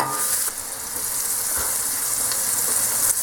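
Onions fry in a pan for pork dry fry, making a steady close sizzle with a bright hiss and small pops throughout, with no talk.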